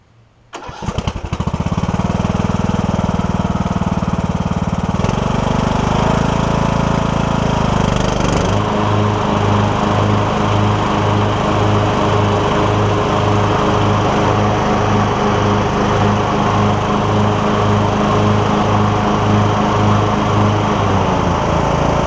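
A riding lawn mower engine, run hard and repaired after a bad camshaft compression release, cranks and catches, then runs at a steady loud idle with a regular throb, close and alone without talk.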